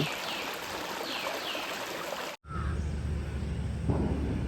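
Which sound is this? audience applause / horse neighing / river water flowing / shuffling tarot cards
river water flowing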